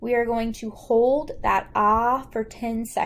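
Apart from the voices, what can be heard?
None of the usual background noises is heard.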